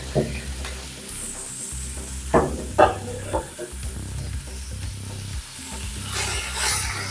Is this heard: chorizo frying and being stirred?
yes